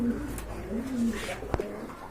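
Pigeons of the Lal Chorera type, kept as a pair of quality birds, give low throaty coos in a few short phrases. Voices talk nearby, and a brief knock lands partway through.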